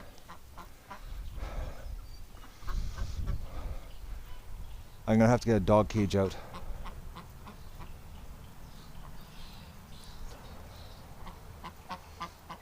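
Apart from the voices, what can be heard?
duck quacking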